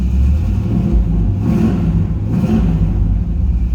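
A 1979 Chevrolet El Camino engine rumbles at a steady idle with a couple of brief revs blipping up, loud and close, no voices.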